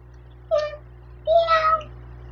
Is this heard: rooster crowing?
no